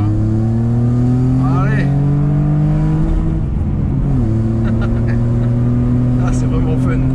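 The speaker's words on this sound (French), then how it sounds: "on va mettre un petit peu de gaz là pour que tu entendes le son du Super Sprint" A Peugeot 406 V6 Pininfarina with 194 hp and a Super Sprint exhaust, heard from inside the car, drones loudly and then swells as the engine revs up under load before settling again, while someone speaks briefly.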